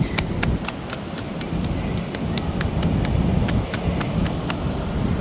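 A bucket packed with wet sand is tapped on its sides for sandcastle forming: a quick, regular series of sharp taps over steady outdoor wind rumble.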